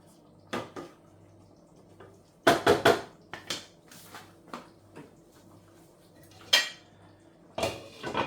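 A spoon clanks and scrapes inside a pot of lamb and beef curry on low heat, with scattered metallic knocks and taps, some close and sharp, separated by quiet gaps.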